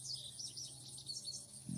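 Birds chirp softly in a quiet jungle ambience. Light, continuous high twittering sits over a low steady background, with no voices.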